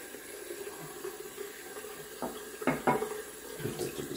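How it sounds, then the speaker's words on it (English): Tap water runs into a bathroom sink while a ceramic shaving bowl is rinsed out, a soft steady flow with a couple of brief splashy surges near the end, faint and close. "rinse out the ceramic bowl"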